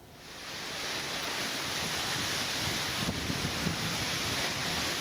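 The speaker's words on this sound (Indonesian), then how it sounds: "Hujan deras dan angin kencang menerjang puluhan rumah hingga di Desa Laju Kidul, Singgahan, Kabupaten Tuban." A storm of heavy rain and strong wind batters houses in a village in Tuban, East Java, a loud continuous roaring wash of broadband noise that swells and holds steady.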